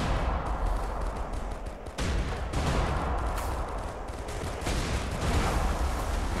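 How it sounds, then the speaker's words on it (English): A machine gun turret fires continuously in the iBomber Defense Pacific game, a dense rattle of rapid shots and impacts at steady loudness with no talking. "We placed a machine gun turret right next to that crate, and we're going to use it to destroy the crate"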